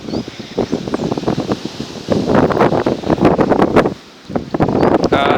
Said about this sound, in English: that wind is getting fucking strong in it